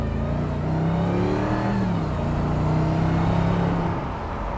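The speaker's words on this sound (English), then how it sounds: "you hear that supercharger whine from the V8" A supercharged V8 in a Mercedes SLR McLaren revs up twice nearby, with a smooth, steady engine drone swelling and then easing off.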